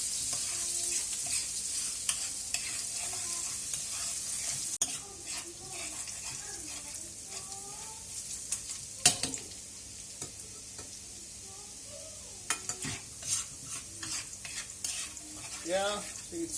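Ginger and garlic frying in a pan for mutton curry, a steady sizzling hiss with occasional spatula clinks and scrapes, close, with a voice talking over part of it.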